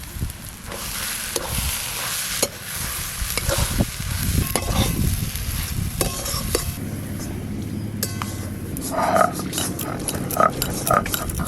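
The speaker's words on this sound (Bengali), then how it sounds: "আজকে আমি আলুর পুরটা একটু পোড়াতে নেড়ে নিচ্ছি" Spiced potato filling with turmeric, cumin and salt being stirred and roasted in a pan, steady sizzling under repeated scraping and clinking of a utensil against the metal, close and busy throughout.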